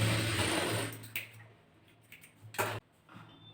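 A sewing machine stitches a blouse in short bursts: a steady whirring run at the start, then a quiet pause with small clicks, and another brief burst near the end, up close with no speech.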